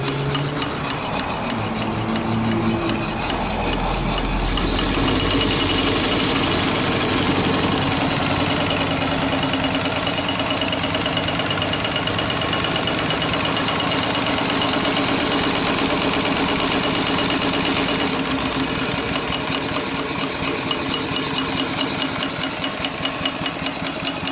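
A Cale steam engine and its boiler run at speed, giving a loud, rapid, steady mechanical chuffing and clatter that continues without a break throughout.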